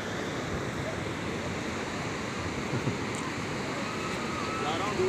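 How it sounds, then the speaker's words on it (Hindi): Sea waves washing onto a beach in Goa make a steady, dense roar that lasts throughout with no break, close and fairly loud, with some wind noise mixed in. "लहरें"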